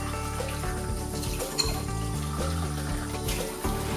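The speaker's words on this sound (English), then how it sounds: "Rinse the pot and lid under running water." Spray gun solution pot and lid rinsed under running water, a steady gushing tap stream with shifting tone as the pot moves beneath it, close and moderately loud.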